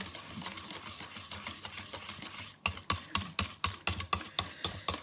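Eggs and kefir whisked into a room-temperature pancake batter, with a steady soft swish that turns into a quick regular series of sharp taps against the bowl, about two per second, near and alone.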